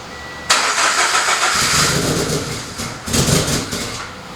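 A Subaru BRZ engine is flood-started with the gas pedal held down, cranking abruptly into a loud rough roar that dips briefly and then surges again, close and alone.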